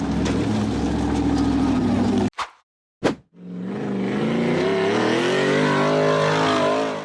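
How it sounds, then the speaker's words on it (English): A blue steel-frame off-road buggy revs hard up a steep sandy dirt wall, its loud engine roaring and climbing in pitch, cutting out briefly with two sharp bursts before surging back into a rising, sustained whine. "The blue steel frame buggy accelerated hard up the steep sandy dirt wall"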